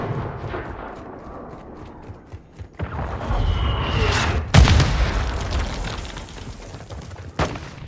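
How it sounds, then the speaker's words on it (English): Mortar shells exploding in Call of Duty Modern Warfare II: a string of deep booms and rumbling blasts, building to one loud, close explosion midway, then lingering debris rumble and a final thud. "Mortar incoming, north side."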